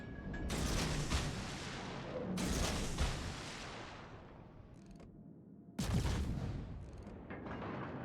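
Heavy naval guns firing in World of Warships: three loud, booming salvos, each with a sharp crack followed by a long rumbling decay, over a constant low engine and sea rumble.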